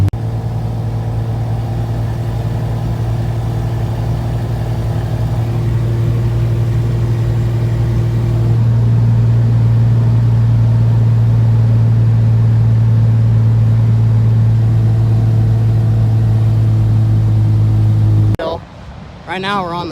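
A tow truck drives through the Oregon Dunes near Florence, its engine droning loudly and steadily at a constant pitch for most of the stretch before a brief shift near the end.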